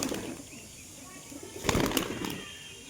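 A pigeon, one of a pair of pet birds offered for sale, beats its wings in a short burst of flapping near the middle, with a faint background hum and no talking.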